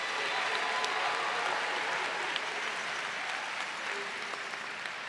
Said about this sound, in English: Let's give them a hand again.